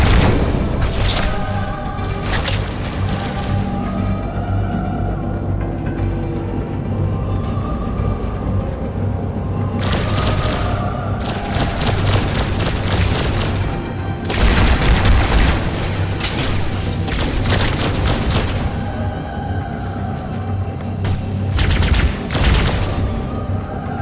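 Carbine gunfire in the video game Halo 2 Anniversary, rapid bursts of sharp shots and booms repeating over a continuous loud game soundscape, with no talking.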